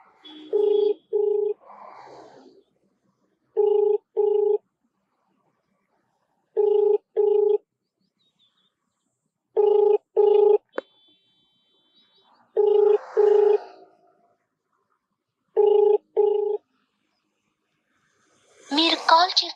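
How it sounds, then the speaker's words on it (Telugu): Phone call ringback tone that goes unanswered: paired electronic ring pulses repeating at regular intervals with silence between, clear and close, ending in a short burst of voice. "రింగ్ అవుతుంది, మేడం ఆన్సర్ చేస్తారో లేదో చూద్దాం."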